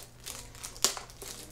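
Crinkly, hard-to-open plastic packaging on a birthday gift rustles close by in short bursts, with one sharper crackle midway through a brief stretch of handling.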